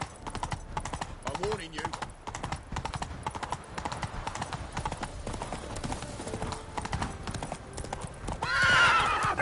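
Hooves of Roach, a horse in The Witcher 3, pound in a fast, steady galloping clip-clop with a whinny near the end, while a voice speaks over the gameplay.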